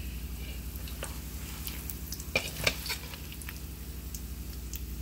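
Peanuts fry in hot oil for roasted peanuts with chili and garlic, giving a continuous low crackling sizzle with a few scraping clicks from stirring, fairly quiet and steady.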